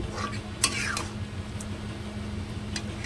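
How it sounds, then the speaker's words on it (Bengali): A spoon stirs chicken and spices in a metal pot, with light clinks and scrapes, one sharper knock early on and soft intermittent clatter over a faint low hum. "আমি কিছু ভালো করে একটু নাড়িয়ে নেব"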